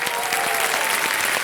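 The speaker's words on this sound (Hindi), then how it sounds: "तालियां बज जाएं इनके लिए" A studio audience on the quiz show Kaun Banega Crorepati 14 breaks into steady, dense applause, a close wash of clapping that fills the whole moment.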